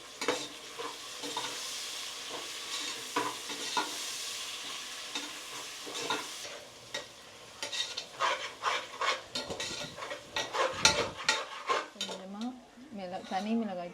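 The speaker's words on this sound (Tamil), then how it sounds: "மசாலா நல்லா வதங்கிடுச்சு." Masala spices sautéing in a pan with tomato and green chilli, a steady sizzle under repeated scraping and clinking stirs of a spoon against the pan, close and busy throughout.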